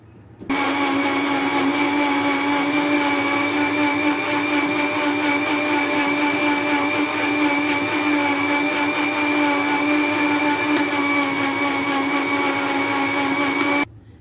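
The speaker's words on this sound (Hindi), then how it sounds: "तो अब इसको हम ब्लेंड कर लेते हैं।" A blender whirs steadily as it blends an Oreo milkshake made with full-fat milk, a loud constant motor whine held for about thirteen seconds before stopping abruptly.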